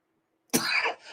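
A single short, close cough, dry and throaty, heard alone against a quiet background.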